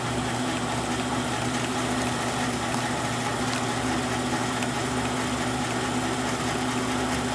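A motor spins a three-phase generator at 300 RPM on a pole engine test rig, giving a continuous, even mechanical hum and whine with no pauses or talk.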